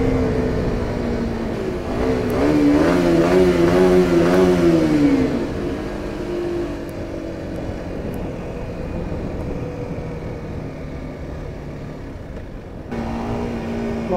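A 2020 Kawasaki Ninja 125 motorcycle ridden through curves, its small engine rising and falling in pitch as it revs and shifts, then settling into a steady hum with wind noise, close and continuous.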